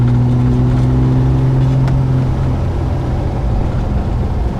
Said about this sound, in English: Typical TR6, nice strong pull of the straight 6.